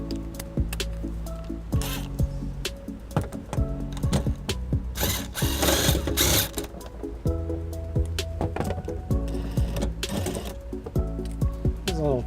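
A socket wrench with a 10mm socket loosens the center fastener during trailer wiring work on a 2010 Toyota RAV4, giving repeated close ratcheting clicks and metallic rattles over a steady mechanical background.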